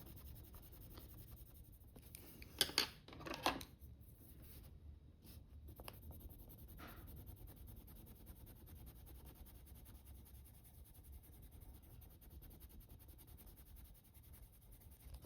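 Soft scratchy colored pencil strokes blending on paper, a few brief louder bursts early on, then quiet faint shading over low background hum.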